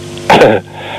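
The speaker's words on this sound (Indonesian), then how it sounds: "Diawali dengan batuk." A single short, rough cough bursts out close up, sharp and breathy, over a faint steady hum.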